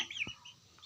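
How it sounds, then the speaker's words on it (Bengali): Young chickens in a home yard, one short cluck-like call followed by faint high peeping, heard close and quiet. "আমার মুরগির বাচ্চা"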